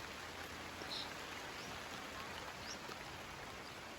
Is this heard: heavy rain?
yes